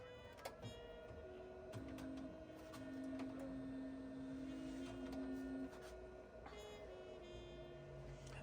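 A ProColored L1800 DTF printer powers on and runs its setup test. A faint mechanical whir comes with steady sustained tones that shift pitch, and a few soft clicks punctuate it.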